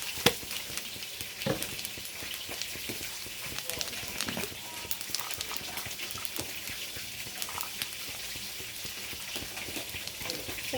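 Whole cumin seeds sizzle in hot mustard oil left over from frying fish, producing a steady, fairly quiet crackling hiss with small pops scattered throughout.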